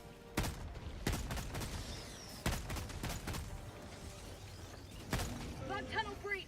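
Rapid automatic gunfire from a weapon in the video game Helldivers, sharp repeated bursts over a dense battle din with a bug tunnel breach, heavy low rumble, with someone talking over it.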